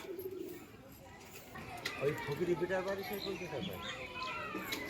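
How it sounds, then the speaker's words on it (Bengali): A pigeon coos in soft, rising and falling calls while people talk nearby, with faint fluttering as the bird lifts off. "এই যে পায়রাটা উঠছে"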